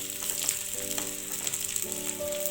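Dried red chillies sizzle and crackle in hot oil for a chicken curry, a steady close frying hiss with light stirring and tonal clinks from the pan, no voices.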